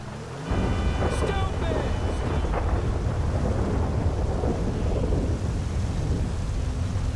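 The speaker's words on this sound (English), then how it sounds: "Oh, I feel the thunder." Thunder in the video game Red Dead Redemption 2: a loud crack followed by a long, heavy rumble that rolls on steadily beneath rain and wind noise.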